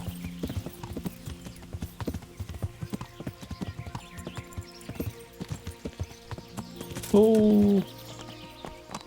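Horse hooves clip-clop in a steady rhythm on the ground in Kingdom Come: Deliverance, close and clear, with a brief horse whinny near the end and someone speaking a word over the top.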